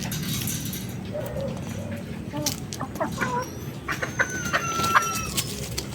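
Backyard Kabir chickens and a rooster clucking in a farmyard, scattered short calls rising and overlapping over a low background murmur.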